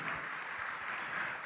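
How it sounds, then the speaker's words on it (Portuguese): A congregation at a church programme claps together, a brief, moderately faint burst of steady applause lasting just over a second. "vamos aplaudir ao Senhor Jesus por cada vida que está chegando"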